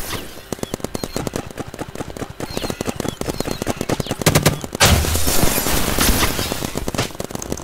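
Rapid bursts of paintball gunfire in a Roblox paintball game, dense and continuous for several seconds, with a louder, more sustained volley near the end.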